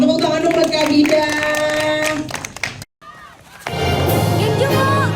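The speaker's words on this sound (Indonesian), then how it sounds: "tepuk tangan dong buat Kak Bida" An audience applauds and cheers for Kak Bida at an event about the animated film Jumbo. The clapping and crowd noise are mixed with talk and music-like tones, break off briefly, then return as a busy crowd wash.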